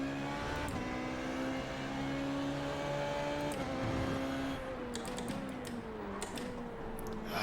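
Race car in a sim racing game, engine droning steadily with harmonic pitch shifts as it slows and speeds through corners, with brief downshifts and braking near the end; continuous and close, no talking.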